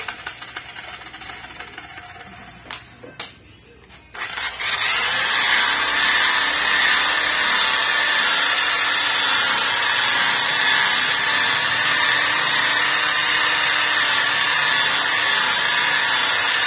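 A power polisher buffing a metallic black Honda Accord starts up after a few short clanks and handling noises, then runs as a loud, steady, high whine close by.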